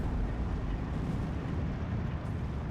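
A direct-hit explosion from the tank warfare game Steel Division 2: a dense, loud, rumbling blast that fills the whole short stretch with low booming noise, heard on its own without talk.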